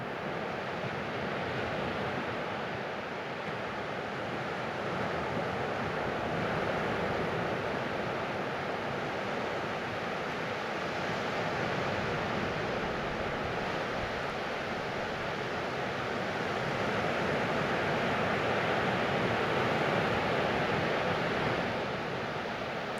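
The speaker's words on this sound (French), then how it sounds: "le son reposant des vagues" Ocean waves break on an empty beach in a steady, soft wash of surf that swells and recedes slowly, moderately distant and unbroken by voices.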